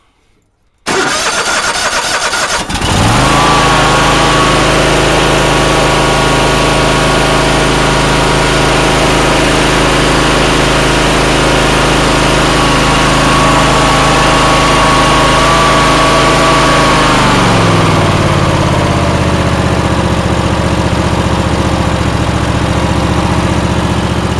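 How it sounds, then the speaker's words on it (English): A powerful Tory Bilt Massey Ferguson race tractor engine cranks and catches on a cold start, then idles with a loud, steady throb that drops to a lower, deeper rumble near the end. "I know everyone likes engine shots"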